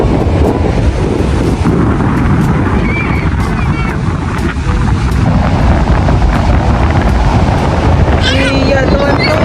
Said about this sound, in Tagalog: Hindi na, malakas ang alon.